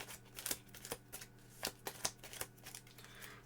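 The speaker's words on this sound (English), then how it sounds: "now we have to shuffle the 4 cards that are up on top" A small stack of cards is shuffled during a Star Wars: The Clone Wars board game, giving a run of crisp riffling flicks and soft slaps in close, steady bursts, with no talking.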